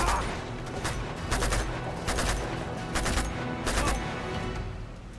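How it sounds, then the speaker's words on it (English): Dense, continuous gunfire in a big Uncharted 2 shootout, many overlapping shots and bursts crackling without pause across a loud battle din. "This is a really big shootout."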